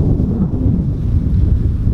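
Steady low rumbling wind buffeting the microphone beside a fishing pond, continuous and fairly loud, with no voices.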